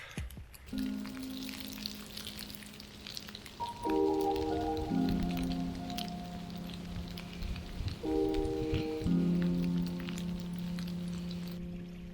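Heavy rain falls over a flooded landscape, a steady dense hiss and patter throughout, with sustained tonal notes from a motor or music drifting in and out underneath.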